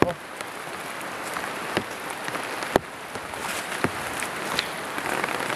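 Heavy rain falls in a dense, steady hiss across the whole stretch, with scattered sharper drops or taps, loud and close throughout.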